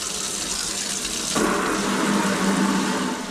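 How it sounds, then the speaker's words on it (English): Tap water runs into an empty plastic home brew fermenting bin as a continuous, close gush. The pitch and fullness of the flow shift partway through as the bin fills. "So get some water in."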